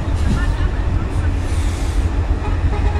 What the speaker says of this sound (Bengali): এটা ঢাকা থেকে আসলো এই ট্রেনটা, এটা যাচ্ছে ফরিদপুরের দিকে